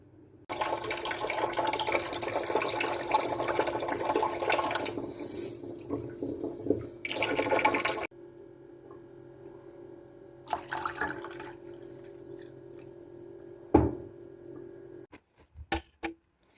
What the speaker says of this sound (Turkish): Soğutulmuş şerbeti sıcak baklavaların üzerine ekleyin.